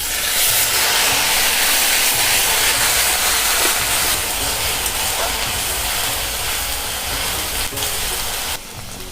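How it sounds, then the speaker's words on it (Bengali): Garlic and onion paste frying in a pan with cloves, cardamom and a bay leaf for a Bengali mushroom kosha, making a loud, steady, close sizzle that hisses without a break. "1 চামচ রসুন বাটা দেব, দিয়ে আমি একটু ভেজে নেব। এবার একটা পেঁয়াজ বাটা দিয়ে দেব।"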